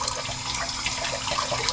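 Water runs steadily from a tap as a face is rinsed after shaving, a continuous close splashing wash with no voices.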